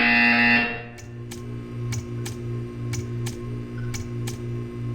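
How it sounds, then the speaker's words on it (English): A loud, harsh buzzer from the Portal 2 video game blares for about half a second, then cuts off, leaving a steady electronic hum with a regular series of sharp ticking clicks. "You will hear a buzzer."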